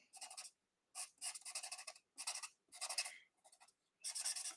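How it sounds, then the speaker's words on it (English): Markers squeak and scratch across paper card stock while colouring a stained-glass effect, in close, quiet bursts of rapid back-and-forth strokes separated by short pauses. "I love the noise the markers make"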